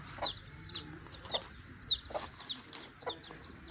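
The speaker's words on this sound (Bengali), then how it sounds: "এখানেও সামনে দেখুন মুরগি আছে" Chickens cluck around a lane in a tribal village in Purulia, with a series of short, close clucks and squawks spaced irregularly over a quiet outdoor background.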